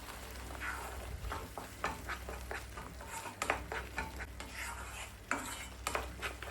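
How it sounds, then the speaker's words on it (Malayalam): A tomato mixture sautés in oil in a pan for tomato rice, a steady soft sizzle under repeated scrapes and clinks of a spoon stirring against the metal, close and fairly quiet. "എണ്ണ തെളിഞ്ഞു വരുന്നവരെ നന്നായിട്ട് സോട്ട് ചെയ്തെടുക്കുക"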